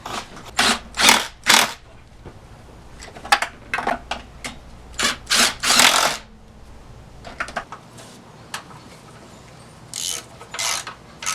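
Bolts are ratcheted tight on an S197 Mustang, with bursts of rapid clicking ratchet strokes separated by pauses and quieter handling of tools.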